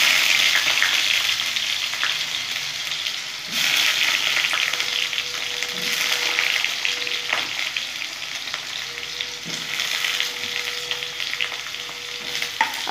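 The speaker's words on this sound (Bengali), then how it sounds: "আমি আলুটা ভেজে ভেজে নেবো।" Potatoes frying in hot oil in a pan for a vegetarian cabbage dish, a steady dense sizzle that runs the whole time with a few brief stirring clatters and no voices.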